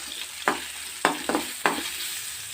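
Chili and onion roasting with ginger and garlic in a pan, a steady sizzle broken by three or four sharp stirring scrapes at a regular pace, near and without speech.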